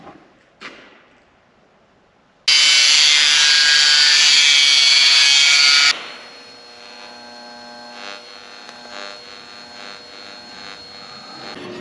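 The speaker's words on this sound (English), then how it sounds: "So next I just need to cut a hole in the face of this and weld these to it." A metal heater face is cut open in a workshop during a custom cab heater build for a 1930 Cummins-powered truck. A loud, harsh cutting burst lasts about three seconds after a brief knock, then drops to a low steady hum.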